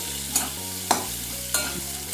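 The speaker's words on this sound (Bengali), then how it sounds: "কালো জিরেটা কাঁচা লঙ্কাটা নেড়ে নিয়ে এবার আমি দিয়ে দিচ্ছি আলুর টুকরোগুলো" Potato pieces sizzle in hot oil with black cumin and green chilli while a spatula stirs them, three sharp scraping strokes standing out over a steady close frying hiss, with no voices.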